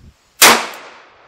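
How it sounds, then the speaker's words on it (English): A single sharp shot from a BFR revolver with a 10-inch barrel firing a subsonic .350 Legend round, loud and close, followed by a ringing decay into quiet. "Always a blast getting out the BFR revolvers."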